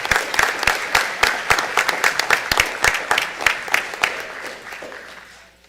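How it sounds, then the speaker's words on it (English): An audience at a school board of education meeting applauds a football team, a lively round of clapping from many people that swells and then tapers off toward the end. "If you'd give these boys a round of applause."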